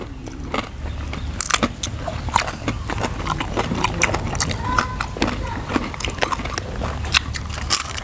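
Crisp crunchy bites and chewing of crispy fried fish come through as repeated sharp crackles, close and loud. Quiet talk runs underneath in a home kitchen setting.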